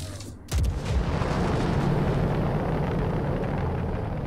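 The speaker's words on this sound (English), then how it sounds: "Missile away." Missile launching from a spaceship in the Star Citizen game during a space battle: a sudden loud burst gives way to a sustained roaring rumble that carries on steadily to the end.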